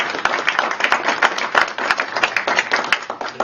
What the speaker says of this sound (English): So why don't we give them a big round of applause.